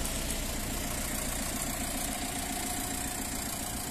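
Steady, moderately loud idle of a Volkswagen Sharan 1.9 TDI diesel with automatic gearbox, a continuous even rumble with a faint knocking texture and no voices throughout.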